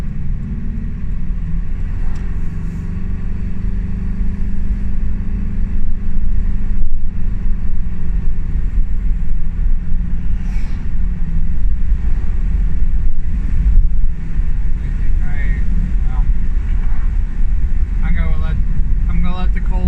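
A car with a muffler exhaust getting progressively worse, droning as a steady low rumble throughout a morning commute, with wind noise and faint interior sounds over the constant exhaust tone.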